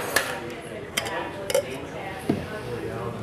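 Ice cubes dropped into a rocks glass while a Disaronno Sour is being made, giving a few sharp, scattered clinks and knocks over a low room hum.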